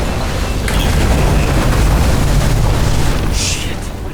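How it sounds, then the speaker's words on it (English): Electrical fuses blowing in the game Nobody Wants to Die, a loud crackling burst and roaring electrical surge filling the space, steady and harsh before easing slightly at the end. "The fuses just blew."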